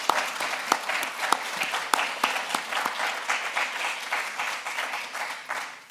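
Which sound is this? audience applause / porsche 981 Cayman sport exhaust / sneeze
audience applause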